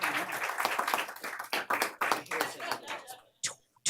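Audience at a board of supervisors meeting clapping in a short burst of scattered applause, dense at first and then thinning out into a few last claps, with some voices mixed in.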